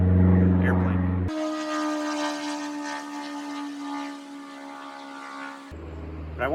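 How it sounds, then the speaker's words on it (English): A propeller airplane drones overhead in a forest, a steady tonal hum holding for several seconds, louder at first and fading slightly, with a voice briefly at the start and end. "Airplane."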